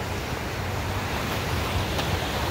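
Waves on open water near the Mackinac Bridge in Michigan give a steady, broad wash of surf with wind rumble, continuous and fairly soft, with no voices.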